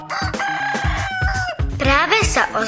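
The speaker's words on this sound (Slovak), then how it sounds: "Práve sa ozval kohút." A farmyard rooster crows loudly and close, a long drawn cock-a-doodle-doo with clucking hens nearby, heard over a person speaking.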